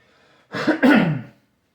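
A single close throat-clearing cough, short and rough, heard alone in a quiet room.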